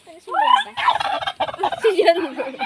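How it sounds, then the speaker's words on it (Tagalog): Turkeys gobble loudly and close by, several rapid warbling calls overlapping in a continuous chorus. "May pabo, oh."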